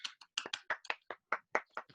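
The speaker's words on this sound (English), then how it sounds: "we can give you a little round of applause" On a video call, a few scattered claps ring out in quick, uneven succession, close and clear over silence, lasting just under two seconds.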